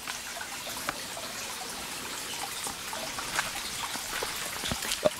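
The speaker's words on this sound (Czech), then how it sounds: "tak tady je takovýhle potůček" A small countryside brook trickles softly and continuously, with faint scattered drips and splashes over a quiet background and no voices.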